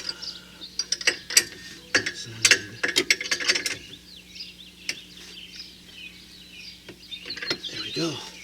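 A socket ratchet clicks rapidly while tightening 19 mm bolts on the suspension of a 2006 Dodge Sprinter Pleasure Way Class B RV, close bursts of pawl ticks with pauses and clanks between strokes.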